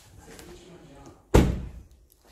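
An Audi A3 8V car door slams shut with a single loud, close thud, preceded by faint background murmur and movement.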